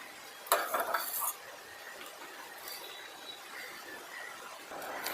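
A spoon stirring thickening milk in a pan for bread shahi tukda, a brief burst of metallic scraping and clinking near the start followed by quieter occasional taps and a faint simmer.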